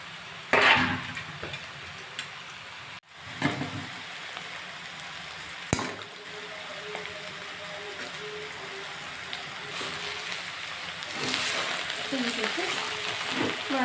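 Squeezed leafy greens with grated fresh coconut cook in a pan for a tempered greens dish, giving a soft continuous sizzle with a few sharp stirring scrapes and clatters.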